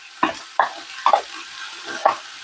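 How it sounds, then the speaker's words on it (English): Red peppers and onions sizzle in a frying pan for chili as a spoon stirs them, with four distinct scraping stirs spaced about half a second apart over a steady close hiss. "we're going to give these a stir and let them cook until they just soften a bit"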